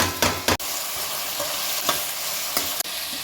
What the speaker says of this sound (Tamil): வெங்காயம் முதல் போட்டு வதக்கிடலாம் கொஞ்சமாக வாசனைக்கு கருவேப்பிலை தக்காளி இப்போ இந்த ட்ரை கலர் குடமிளகாவும் சேர்த்துக்கலாம்